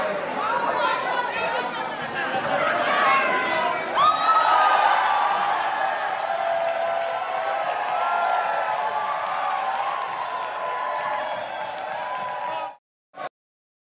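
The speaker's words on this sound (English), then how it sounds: "that's Green Party Deputy Leader Mohsin Ali crowd surfing" Crowd cheering and whooping as Green Party Deputy Leader Mohsin Ali crowd surfs, a dense, continuous roar of voices and chatter with scattered claps, close and loud throughout, cutting off sharply near the end.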